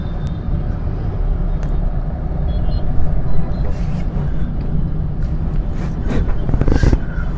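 A car driven slowly through a traffic area at about 20 km/h gives a steady, fairly loud low engine and road rumble throughout, with a few brief clicks and knocks on top.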